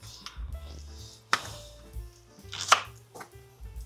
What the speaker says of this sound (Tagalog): maghihiwa muna ako ng sibuyas